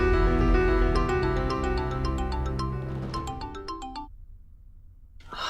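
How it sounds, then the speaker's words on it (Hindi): A mobile phone ringtone plays loud and close, a bright melodic run of repeated notes over a warm backing that cuts off abruptly, leaving near silence. "हाँ हार्दिक भाई, मैं आपका फ़ोन सुबह से ट्राई कर रहा हूँ"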